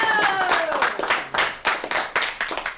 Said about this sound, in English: Let's get a round of applause going.